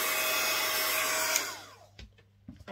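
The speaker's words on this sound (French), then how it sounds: "Je vous conseille, si vous ne l'avez pas encore acheté, le heat gun, de prendre un silencieux." A heat gun blows steadily at close range, a loud continuous whoosh that warms stencil texture paste, then cuts off and leaves a few soft knocks.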